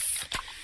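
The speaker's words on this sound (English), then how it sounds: "that's the sound of a freshly opened fizz-filled Pepsi" A freshly opened fizzy can of Pepsi cola gives a short spray-like hiss burst near the middle, close and clear, with steady broadband background noise around it and no talk.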